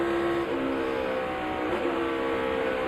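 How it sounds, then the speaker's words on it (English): NASCAR Cup Series race car at Kansas downshifting between turns 3 and 4, a steady loud engine drone with shifting pitch through the corner, no talk over it. "Hit that downshift in the middle of 3 and 4"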